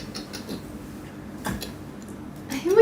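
A voice imitates the chirp of a house gecko with a few soft, sparse tongue clicks spread across a couple of seconds, ending in a short rising vocal squeak.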